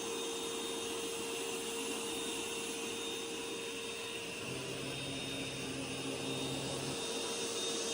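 Bcdroid A10 Ultra robot vacuum running at maximum 25,000 Pa suction on carpet, a steady loud close whirring roar with a constant high whine and a low tonal drone joining partway through, no talk.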